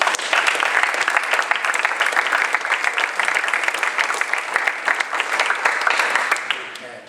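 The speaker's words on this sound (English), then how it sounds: "can I get everybody to give the parents a round of applause?" A basketball awards banquet audience gives the parents a round of applause, dense steady clapping from a room full of people lasting several seconds before tapering off at the end.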